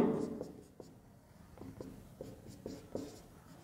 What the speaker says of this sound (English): I will write one example on the board.